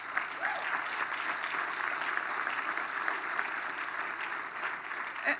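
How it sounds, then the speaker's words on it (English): A business luncheon audience breaks into applause, a broad, even wash of many hands clapping that holds steady and fairly loud from start to finish, with no speech over it. "you can applaud that"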